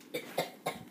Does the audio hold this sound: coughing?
yes